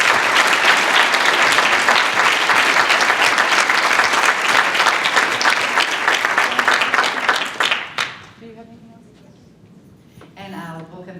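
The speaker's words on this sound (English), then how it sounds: "Please join me in an applause for all of them." Loud, sustained applause from a banquet audience at a Women's History Month event fills about eight seconds, then fades out, leaving faint room sounds and a voice starting to speak at the end.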